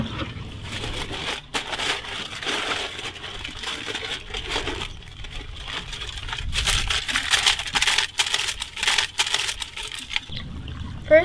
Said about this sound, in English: To line your Dutch oven, you could either use these commercial liners or tin foil.